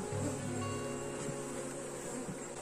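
Honey bees buzzing at an open hive as it is being closed, a continuous close, faint humming swarm with steady tonal whine, no voices.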